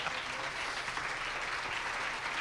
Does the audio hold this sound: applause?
yes